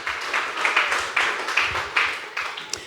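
A church congregation of the Iglesia de Cristo applauding, a modest group's rhythmic clapping with regular bursts of claps, fairly close and steady.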